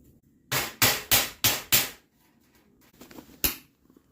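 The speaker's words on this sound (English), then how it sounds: "slide the nail through both and hammer it flat" Five sharp hammer blows strike a nail in quick, steady succession, flattening it through a washer on ductwork, followed after a pause by a few lighter taps and one final solid hit.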